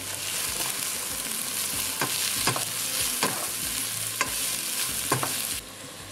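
Mushrooms with a pinch of salt frying in a pan for chili con carne, with a continuous close sizzle broken by several rhythmic scraping stirs; the sound drops away abruptly at the very end.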